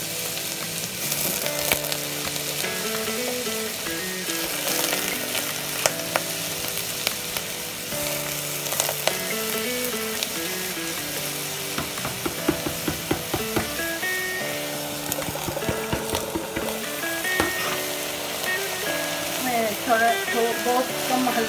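Chopped bottle gourd fries in a pan with a continuous close, loud sizzle, with occasional clinks and scraping from stirring throughout.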